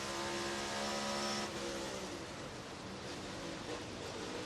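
A NASCAR Cup race car at Darlington drones loudly, then its engine note drops away mid-clip as if stumbling or cutting out, leaving a rougher, flatter roar.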